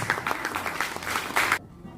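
Applause from an event audience in French Guiana, a burst of dense clapping that cuts off abruptly after about a second and a half, fairly loud and close.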